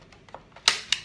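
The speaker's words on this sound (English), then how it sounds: "Now what I'm going to do is just cut the corners off" Scissors cutting the corners off a paper book cover for an envelope booklet, a few faint snips followed by two sharper, louder cuts, close and brief with no talking.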